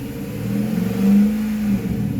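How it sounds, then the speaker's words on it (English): A Hyundai Genesis engine is revved to about 3000 rpm while warming up during a coolant change. The close, loud engine tone climbs, holds briefly at its peak, then eases back, with no talk over it. "what I'm doing right now is we're just gonna rev it up to about 3 grand"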